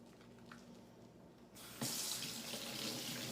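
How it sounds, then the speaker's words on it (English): A faucet is turned on and water runs into a sink while hands are rinsed. A quiet room is followed by a sudden, steady, close rush of water that continues to the end. "And we'll rinse off our hands, dry them off, and hopefully you feel a bit refreshed."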